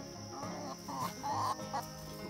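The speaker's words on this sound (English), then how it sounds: "Chickens. Kind of cool little creatures." Backyard chickens clucking inside a wintry chicken coop at the edge of a forest, a steady run of close, overlapping clucks and murmurs with a few louder calls and no talk.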